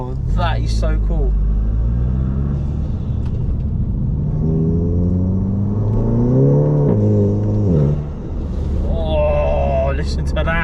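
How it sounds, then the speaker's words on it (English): Golf GTI with a Revo open air intake and dump valve revs hard, engine pitch climbing and falling in loud, close, sustained sweeps with a brief dip near the end; people talk excitedly over it. "Sounds like it's got a dump valve on it"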